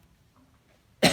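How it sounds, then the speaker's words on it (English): A single sharp cough bursts out near the end after near silence, close and loud. "it's not good to cough when we're talking about COVID."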